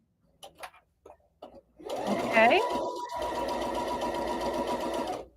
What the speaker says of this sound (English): we're going to sew 1/4 inch down this side.